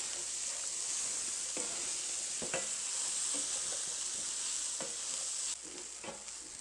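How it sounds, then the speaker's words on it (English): Onions and garlic softening in a pot for a one-pot stroganoff give a steady, close sizzle, broken now and then by soft scrapes and knocks of stirring; no one talks. "we're going to cook these again 3 to 4, maybe even 5 minutes until the onions and garlic are just nice and soft"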